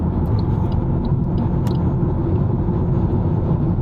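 An Alfa Romeo Giulietta Quadrifoglio cruises in sixth gear at about 2,000 rpm, giving a loud, continuous, low engine and road rumble heard from inside the cabin with no talking.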